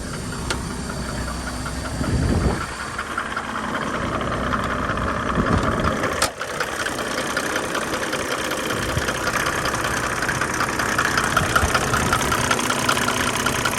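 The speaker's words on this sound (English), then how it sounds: "it just, seems like it starts up alright, or idle's okay" Mercedes E300 engine idling steadily at close range, a continuous mechanical rumble with a faint ticking knock and a couple of brief clunks, no talking.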